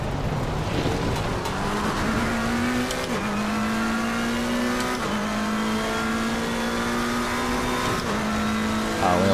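Race car engine from a sim racing game competition, holding steady loud revs with repeated gear shifts every couple of seconds, a continuous droning roar with no talk over it.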